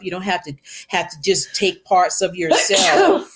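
A single sneeze bursts out near the end, loud and close, right after a person speaks in a calm voice.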